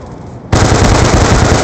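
Sustained automatic gunfire in a flag-capture video game, aimed at a hostile UAV: a loud, continuous rapid burst that cuts in abruptly after a quiet half second and holds steady to the end.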